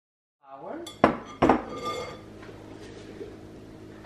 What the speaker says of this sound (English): I'm gonna transfer all of this to the bigger bowl